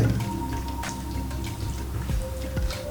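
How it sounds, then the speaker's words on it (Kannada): Wet squelching and dripping as chicken kebab marinade is mixed with egg by hand, soft irregular squishes close up, with no talk. "ಈ ಥರ ಮೊಟ್ಟೆನ ನೀಟಾಗಿ ಮಿಕ್ಸ್ ಮಾಡ್ಕೋಬೇಕಾಗಿರುತ್ತೆ"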